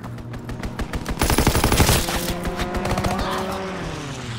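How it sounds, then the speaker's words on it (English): Gunfire from a fighter plane's strafing run in Call of Duty WWII, a loud, rapid burst of machine-gun fire that builds, peaks and then gives way to a droning engine roar with scattered shots. "Fighter pilot inbound, strafing the target."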